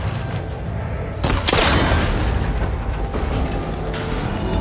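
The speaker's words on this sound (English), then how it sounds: "It should break if I shoot it." A cable connector is shot and breaks in the video game Horizon Forbidden West: a sudden loud impact burst with a metallic crack, followed by rumbling mechanical clatter and settling debris.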